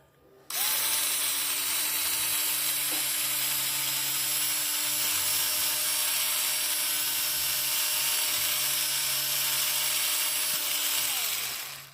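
A cheap little electric drill, brand new, runs steadily for about eleven seconds with a constant whining motor hum, starting abruptly and stopping at the end, loud and close, with no talking.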